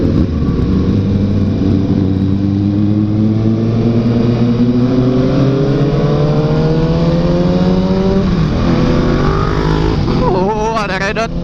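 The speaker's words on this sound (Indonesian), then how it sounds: "Jadi motor 600 cc 4 silinder ini memang gue rekomendasiin banget buat kalian yang baru-baru main moge gitu." A 600 cc four-cylinder motorcycle engine revs up, its pitch climbing steadily for about eight seconds before dropping back, loud and close throughout.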